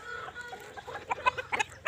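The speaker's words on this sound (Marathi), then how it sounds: "बघू शकता आपण आपल्या कोंबड्यांना भाजीपाला टाकलेला आहे आणि आपण त्यांना धान्य टाकत आहे" Backyard chickens on a desi poultry farm cluck while pecking at scattered vegetables and grain, a cluster of short, sharp clucks close by, growing busier and louder toward the end over a low background.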